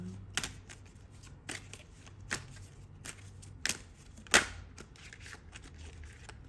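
Tarot cards being shuffled in repeated riffles, sharp crisp bursts spaced irregularly against a quiet background, close up with no talking.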